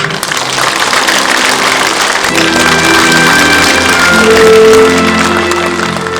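An audience at an outdoor Korean War anniversary memorial ceremony applauds loudly and continuously, with a low steady hum and faint tonal sounds running underneath.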